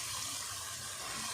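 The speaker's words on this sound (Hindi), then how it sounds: "इसमें आधा कप हम डाल देंगे पानी का" Water, about half a cup, poured into a pan of sautéed cauliflower, potato and peas in masala, giving a brief steady wash of splashing liquid with no one speaking.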